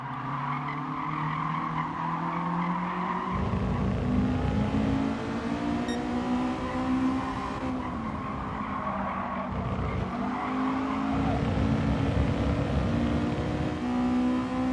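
A Honda-style VTEC engine revs hard in a racing video game, its steady, loud whine climbing and dipping through gear changes, with tyre skids and squeals mixed throughout.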